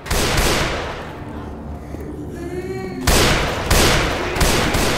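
Gunfire in a co-op zombie shooter game, with loud bursts of shots at the start and again after a pause, over continuous game noise and ambience.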